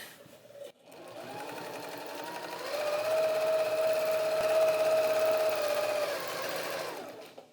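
A sewing machine free-motion quilts a meandering stitch with a steady, fast mechanical whir that starts softly, rises, holds level, then winds down, heard close.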